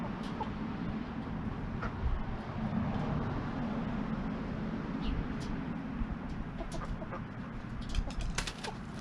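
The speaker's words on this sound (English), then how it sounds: "Chicken." A chicken clucks softly over a steady outdoor background, with a few brief sharper calls scattered through and a faint flutter.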